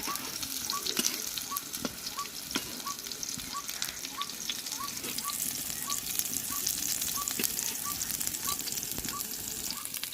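Young jackfruit pieces fry in hot oil, a continuous close crackling sizzle with dense tiny pops, and a faint repeating tone sounds at regular intervals in the background.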